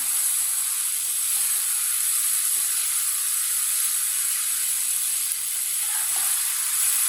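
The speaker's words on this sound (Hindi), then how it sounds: "ऐसे ऐसे चम्मच लाते हुए 3 मिनट के लिए पका लेना" Okra masala (bhindi) with onions and spices cooks in a pan while a spoon stirs it, giving a constant bright sizzle and hiss with faint scraping touches underneath.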